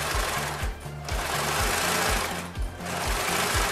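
A sewing machine runs steadily, stitching elastic onto panties with a fast even mechanical chatter of needle strokes, close and loud, pausing briefly twice before carrying on.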